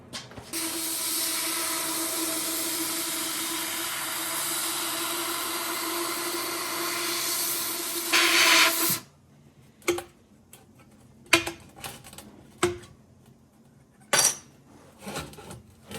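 Metal spacer cut by an Xlaserlab X1 Pro handheld laser, a steady loud hissing roar with a faint tone for about eight seconds that cuts off sharply, followed by scattered clicks and clanks of handling.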